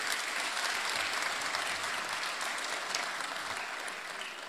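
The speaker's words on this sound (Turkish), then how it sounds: "Kendisini ayrıca alkışlamanızı rica ediyorum." An audience applauds at the opening ceremony of the 11th Bursa International Photography Festival, honouring the mayor. Steady, dense clapping fills the room throughout, fading slightly toward the end.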